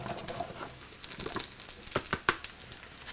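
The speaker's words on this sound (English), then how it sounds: "then you can throw the mushrooms in." Mushrooms tossed into a pan of melted butter and oil set off a close sizzle with crackling and spattering, then a few sharp pops and clinks from stirring.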